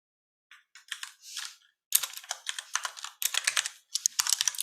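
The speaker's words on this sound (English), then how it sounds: "Okay, so I'm done typing." Typing on a computer keyboard in bursts of rapid key clicks, starting with a few sparse taps and then growing into denser, louder runs of keystrokes with short pauses between them, with no talking.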